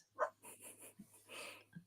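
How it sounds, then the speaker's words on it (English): An excited dog gives a quick yip, then pants and snuffles in short breathy bursts, faint and fairly close, with a low steady hum beneath. "Dog is very excited."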